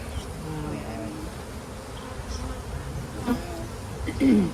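A dense, steady hum of many honeybees fills the air, with a few individual buzzes flying close past.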